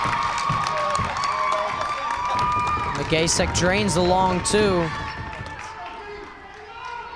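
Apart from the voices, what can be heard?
West Milford crowd cheering at girls basketball game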